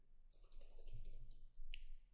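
A computer keyboard clatters in a quick burst of close, quiet keystrokes, then a brief pause before a firmer key press and a little more tapping.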